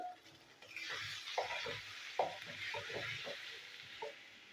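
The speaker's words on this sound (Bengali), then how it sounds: "এই মশলার মধ্যে আমি পটলগুলো নাড়াচাড়া করবো" Pointed gourd turns in sizzling spice masala in a pan, with soft frying hiss beneath intermittent scraping stirs and light clinks, fairly quiet and close.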